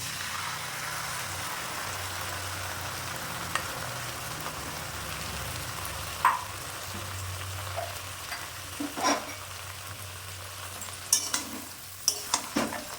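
Neem shukto stirred in a pan, a steady soft sizzle with occasional scraping and clinking of the spoon against the pan, growing more frequent toward the end, with no talking.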